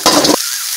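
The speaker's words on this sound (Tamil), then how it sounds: "கருவேப்பிலை, பச்சை மிளகா, வெங்காயம் போட்டுக்கலாம்." Curry leaves, green chilli and onion hitting hot oil in a pan for tomato rice: a short burst of loud sizzling that cuts off abruptly, leaving a faint hiss.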